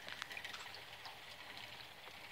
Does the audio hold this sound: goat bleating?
no